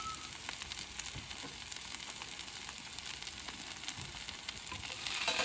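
Vegan sandwich steaks frying in a pan, a dense, even hiss of sizzling oil with faint crackles that swells slightly at the end, no voices.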